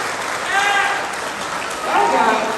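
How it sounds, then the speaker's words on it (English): An audience at a county band concert claps for the parents in a short burst of applause that swells twice, loud and close, with voices mixed in. "Can you guys give your parents a round of applause out there?"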